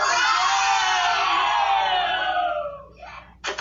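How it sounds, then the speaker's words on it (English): Party guests break into a loud burst of cheering and shouting that fades over about three seconds, followed by a brief final whoop. "and the guests cheer"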